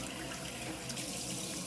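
Hot water runs steadily from a kitchen sink faucet while a sourdough starter is being prepared, a constant broadband hiss and splash at moderate level with no talking.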